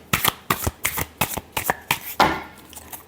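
A deck of tarot cards being shuffled by hand, giving a quick, even series of about eight close, crisp riffling slaps followed by a longer final swish, with no talking.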